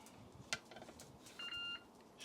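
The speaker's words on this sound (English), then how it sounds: "This thing's always beeping at me" A short, steady electronic beep tone from a ThermoPro TempSpike meat thermometer sounds once, fairly clear over a quiet room background with a few faint clicks.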